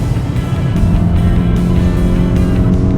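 A Volkswagen Golf GTI driven fast on the NATRAX test track, its engine roaring loud and close in a steady, unbroken drone for the whole stretch.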